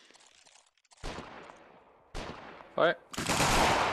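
Rifle shots from an Anglo-Zulu war battle reenactment with the 33rd Regiment of Foot ring out in a few sharp, separated cracks, loud and close, with a voice speaking between them.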